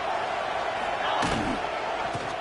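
A hard tackle lands with a heavy thudding hit in an NCAA Football video game, one impact over constant stadium crowd noise.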